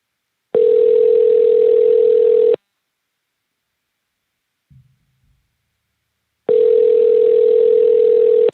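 An outgoing audio call rings back with two steady, loud electronic tones, each about two seconds long and separated by a long silent gap, heard alone.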